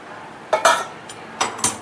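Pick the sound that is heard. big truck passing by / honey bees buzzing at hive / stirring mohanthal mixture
stirring mohanthal mixture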